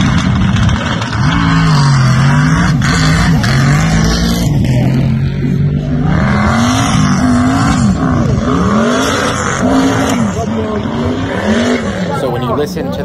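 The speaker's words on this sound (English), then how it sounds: "when you listen to the car after I get it rolling, you can tell right here that the clutch is not happy" A race car at a track event pulls away under a struggling, unhappy clutch, its engine note droning and wavering steadily throughout while a person talks over it.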